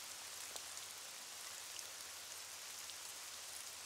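Cartoon rain falls steadily as an even, hissing patter of drops on surfaces, soft and continuous with no voices.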